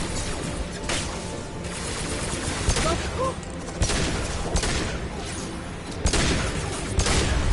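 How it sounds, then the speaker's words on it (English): Bursts of gunfire in a Mass Effect Legendary Edition firefight, rapid volleys and sharp shots recurring every second or two over a steady din of combat, with in-game voices in between. "Hostile fire."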